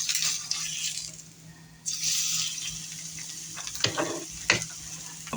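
An egg fries in a pan on a stovetop burner, giving a steady sizzle with scattered crackles and a few sharp spatula or pan clicks, close and fairly quiet, with no voices.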